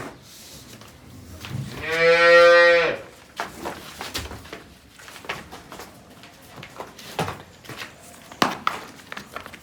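A grey Jersey-cross cow gives one loud, drawn-out moo lasting about two seconds, followed by scattered quieter farmyard knocks and rustles.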